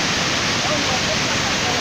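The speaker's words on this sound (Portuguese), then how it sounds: "ali já forma a cachoeira. Começou a cachoeira na parte de cima." Waterfall forming on a river among cracked rocks, a steady broadband roar of rushing water filling the whole clip at constant loudness, close and continuous.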